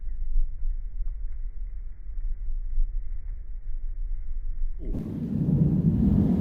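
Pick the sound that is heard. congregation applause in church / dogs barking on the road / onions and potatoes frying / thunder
thunder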